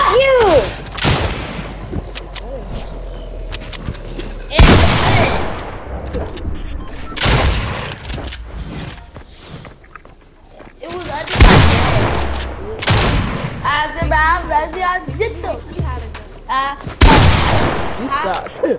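Gunfire in Fortnite, loud close shots and bursts that come in irregular clusters across the stretch, mixed with game effects and with players talking and shouting between the shots.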